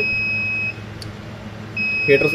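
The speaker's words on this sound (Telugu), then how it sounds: "టెంపరేచర్ ఉండాల్సిన దానికన్నా ఎక్కువ ఉన్నా కూడా హెచ్ఏ హై అలారం అని చెప్పి సౌండ్ వస్తుంది. ఇలాగే బజర్ సౌండ్ అనేది." A 50-60 egg plywood incubator sounds its high-temperature alarm buzzer: two loud, sustained electronic beeps separated by a short gap, followed by a brief clatter.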